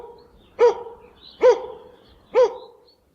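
A dog gives three short, evenly spaced barks, each sharp and close, with quiet gaps between them and no voices.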